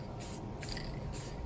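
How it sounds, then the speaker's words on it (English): Three short hissing bursts of clear coat spray onto AirPods being hydro dipped, each puff evenly spaced and close, with no talking. "So yeah, so spray it on."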